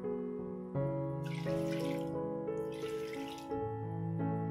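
Water pours into a biryani masala of seeraga samba rice and country chicken in steady streams, splashing in two brief bursts over a sustained background of tonal music, with no talking.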